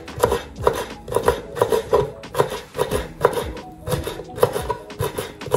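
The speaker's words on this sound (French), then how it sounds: "je vais ciseler l'aneth que je vais incorporer dedans" Coarse chopping of fresh dill with a knife on a board, a steady run of close, crisp cuts in quick rhythmic bursts with brief pauses between strokes.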